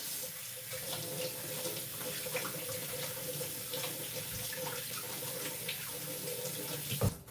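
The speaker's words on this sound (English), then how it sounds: "let me wash off my hands" Hands washed under a running kitchen tap, a steady close rush of water hitting the sink throughout, ending with a brief knock as it stops.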